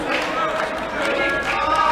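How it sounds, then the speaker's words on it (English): Basketball fans cheering their team on before a varsity high school playoff quarterfinal against HAFTR, a steady, dense crowd roar filling the gym throughout with voices mixed in. "the HAFTR fans cheering their team on"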